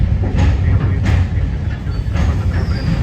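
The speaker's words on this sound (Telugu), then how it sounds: "అక్కడ ట్రైన్ ఉందండి, స్పెషల్ ట్రైన్ అనుకుంటా." A train rumbles steadily nearby at Vijayawada Railway Station, with a low, continuous roar and occasional metallic rattles, loud and constant throughout.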